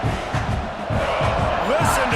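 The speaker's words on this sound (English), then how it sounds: "Listen to this crowd just shaking the girders of this place, trying to help their defense." A loud video game football stadium crowd roars steadily with rhythmic stomping and cheering, a dense wall of noise with a voice rising through it.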